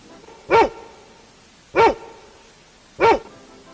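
Three sharp, evenly spaced barks from a dog ring out alone, each short and loud, separated by about a second of quiet.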